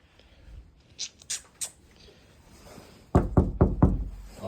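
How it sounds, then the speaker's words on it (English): Several sharp knocks rap on an office door: a few sparse single taps, then a quick cluster of four or five louder, close raps near the end. "Always knock."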